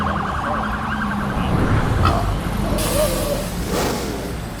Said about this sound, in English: The sounds of honking cars, chattering crowds, and the bustle of city life